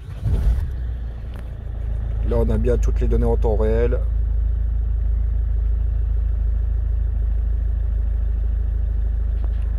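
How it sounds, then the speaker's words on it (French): A car engine catches after a short starter burst and settles into a steady, even idle close by, while someone talks over it for a couple of seconds. "Je vais démarrer la voiture."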